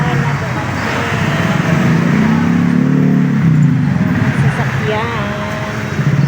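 A car arrives and is driven in along a rural Philippine road, its steady engine rumble and road noise filling the scene throughout, with voices talking over it.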